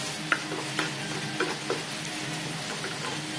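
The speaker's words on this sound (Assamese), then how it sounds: "এতিয়া খৰিচাখিনিও ৰঙা হোৱাকৈ ভাজি ল'ম" Fermented bamboo shoot frying with onion, ginger and garlic in a pan, giving a steady close sizzle with occasional sharp stirring scrapes and no voices.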